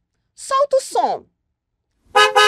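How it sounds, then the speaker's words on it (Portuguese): Car horn honks: a short double beep, then after a pause another pair of loud blasts, brief and close. "Esse é um som de uma buzina de automóvel."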